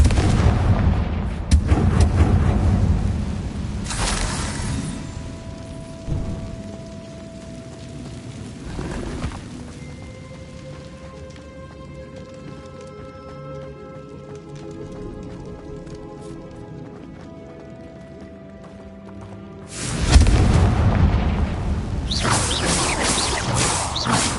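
Confringo spell blasts in Hogwarts Legacy: heavy booming bursts fire in quick succession, give way to a calmer stretch of sustained tones, then another loud barrage erupts near the end.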